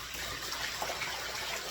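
Warm water pours into a plastic bus tub, a steady soft gushing rush that stays constant and fairly quiet with no voices.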